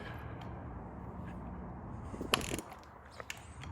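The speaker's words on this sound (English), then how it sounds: "bring a crankshaft socket and wrench and spin the crankshaft over" A socket and wrench ratchet the crankshaft of an Audi 2.0T TFSI engine over by hand, giving soft mechanical clicking and turning with one sharper clack near the end.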